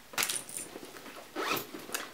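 A purse's zipper pocket is unzipped, with a couple of quick, close rasping zip strokes and light rustling and clinking of contents in between, no talking.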